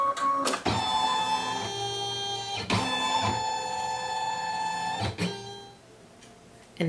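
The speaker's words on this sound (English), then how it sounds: "Our fabric will move and it will scan into the design center." An embroidery machine shifts its hoop and fabric while scanning a design, giving a steady mechanical whir with several short stepping bursts and pauses, close and fairly loud with no voices.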